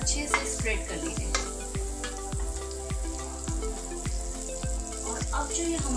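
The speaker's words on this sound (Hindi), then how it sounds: "बटर को अच्छे से स्प्रेड कर लीजिए," Butter spread and stirred around a hot nonstick pan for cheese bread pizza, with a steady sizzle of frying under a repeated rhythmic scraping or tapping of a utensil, close and moderately loud.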